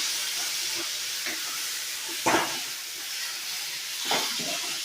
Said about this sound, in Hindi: अब इस बैंगन के भरते को इसमें डाल देंगे और इसे अच्छी तरह से फ्राई करेंगे।